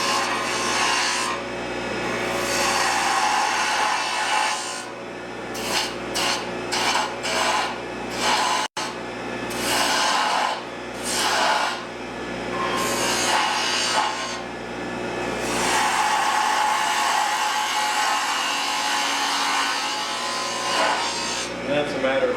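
Woodturning gouge cutting a wooden spindle on a lathe, a continuous close scraping and shaving rasp with repeated short strokes and brief pauses between passes.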